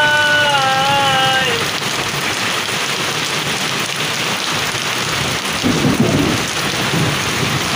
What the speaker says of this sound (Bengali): প্রচুর বজ্রপাত হচ্ছে, মনে হয় আরও বৃষ্টি হইতে পারে